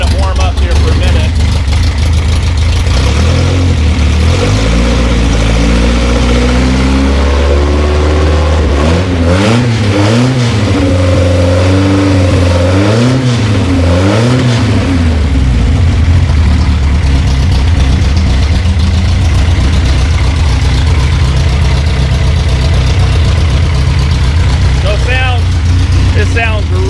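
A 1973 Volvo 142 SCCA race car engine idles loudly and close while warming up, with a few sharp throttle blips in the middle before settling back to a steady rumble.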